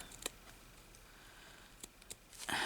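Scissors cut a piece of lace in a quiet room, giving a few faint, separated snips and clicks, with a louder rustle at the end.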